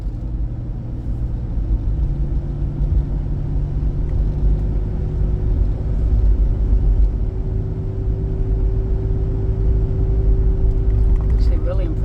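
A 2010 Ford Explorer drives along smoothly, heard from inside the cabin as a steady low road and engine rumble with a constant faint hum, loud and unbroken for the whole stretch.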